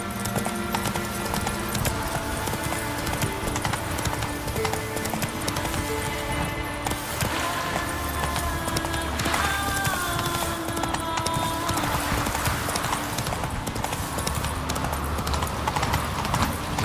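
Roach, a horse in The Witcher 3 next-gen, gallops with steady, continuous hoofbeats over a dense bed of game music and ambience, loud and close throughout.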